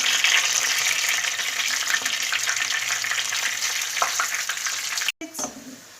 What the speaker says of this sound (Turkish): Ve kıymalarımı içine attım. Kavurmaya başladım.